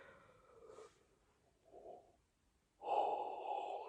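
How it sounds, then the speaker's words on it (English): Drawn-out human yawn with breathy exhales and a long, loud open-mouthed tail toward the end, close and alone with no talk. "Sorry, this is the fifth yawn,"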